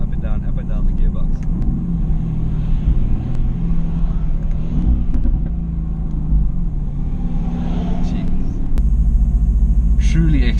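A 2018 Mercedes-AMG GT S with its V8 engine works up and down through the gears, a loud continuous engine rumble with rising and falling pitch and a sharp surge near the end, with some talk underneath.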